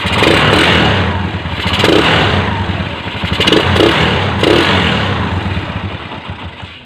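A Kawasaki Barako motorcycle engine, its air cleaner open, cranks and runs with uneven revving and clattering idle, loud and close, with no voices over it.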